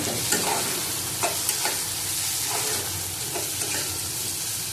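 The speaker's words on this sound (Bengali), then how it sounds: "1 চামচের মতন পোস্ত বাটা দিলাম, কষিয়ে নেবো ভালো করে" Poppy seed paste fries and sizzles in a pan while a spoon scrapes through it, giving a steady hiss broken by a few short clinks and scrapes, with no talking.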